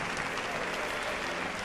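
An audience in a large auditorium fills the air with loud, dense, continuous applause at a special Valentine's show, a steady roar of clapping throughout.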